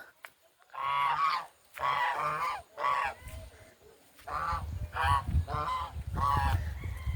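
A goose honks repeatedly in loud, nasal bursts, about seven calls with short pauses between them, close by.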